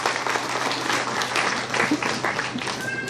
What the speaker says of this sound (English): So a huge round of applause for the children who have performed.